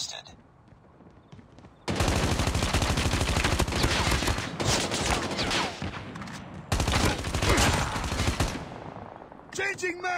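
Rapid automatic gunfire from Call of Duty Mobile hardpoint multiplayer, loud and dense in two long sustained bursts with a brief pause between, followed by short game voice callouts.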